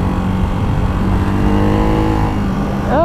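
Ducati Hypermotard 698 motorcycle engine droning steadily after a downshift of one gear, loud and close throughout, its pitch sweeping up sharply at the very end as it revs.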